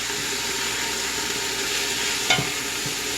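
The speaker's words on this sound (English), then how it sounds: "Hear that sizzle?" Kale hisses and sizzles steadily in a hot frying pan, with a brief clatter of stirring near the end.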